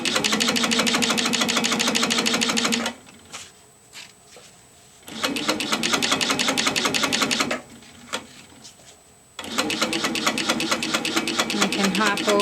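A Sweet 16 sit-down quilting machine stitches a quilt doodle with a steady, rapid mechanical whirr, running in three bursts of a few seconds each, separated by near-quiet pauses.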